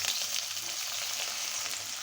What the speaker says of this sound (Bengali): আমি পেঁয়াজ বেরেস্তা করে নিব